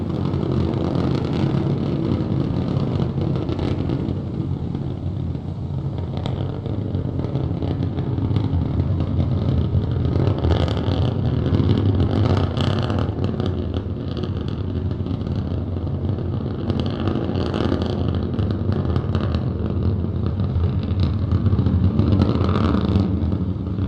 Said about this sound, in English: All 3 Raptor engines continuing to burn